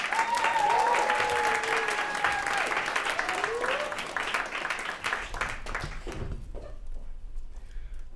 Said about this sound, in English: How about an enormous round of applause for Johnathan Terry